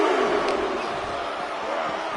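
A wrestling arena crowd in a WWE 2K25 game roars in a dense, steady wash of cheering and shouts throughout, with a commentator's voice mixed in.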